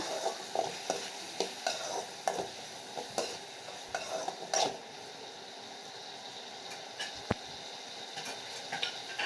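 Tomatoes and curry leaves sautéing in a pan for potato kara kuzhambu, a soft continuous sizzle broken by frequent spoon scrapes and stirs early on, then quieter frying near the end, close with no voices.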